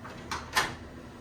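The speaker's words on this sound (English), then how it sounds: "this door slides, and this can lock" A sliding bathroom door in a standard room at Disney's All Star Music Resort is pushed open: two quick scraping rolls, the second louder, close by with no talking.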